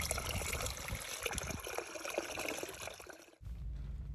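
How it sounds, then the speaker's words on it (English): Water runs into a 1.5-litre plastic backpack water pouch in a steady, dense hissing and trickling rush, close and moderately loud, then cuts off near the end, leaving only a low rumble. "I'm just filling up my water pack."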